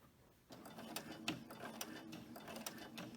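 Sewing machine running a straight stitch with a double needle, a quiet, steady rhythmic whir and tapping of the needle mechanism with small clicks, heard alone without voices.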